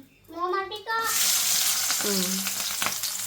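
Hot oil sizzling loudly in a pan for shark curry, a steady hiss that starts abruptly after a brief voice and continues, with another short voice heard over it.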